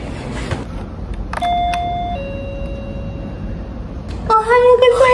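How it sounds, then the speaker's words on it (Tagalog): A doorbell at a house in Japan chimes with two sustained electronic tones, then rings again with a brighter multi-tone chime near the end, over a steady background hum. "So, we're gonna knock the doorbell, okay?"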